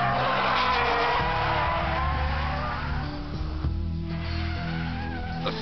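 A Mitsubishi EVO 6 roars loud and close with its engine droning while the tires squeal and skid in wavering pitched whines, the engine note dropping as the slide eases.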